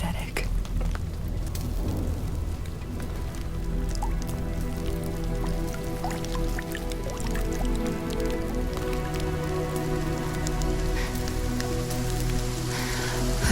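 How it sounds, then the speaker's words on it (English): Steady rain falls and patters on surfaces in The First Descendant, a dense close drizzle with scattered drips, no voices. "Is this rain?"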